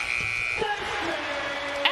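A basketball game buzzer at a UConn at Arkansas game sounds as a loud, sustained electronic tone at the start, cutting off within about half a second amid crowd and arena noise.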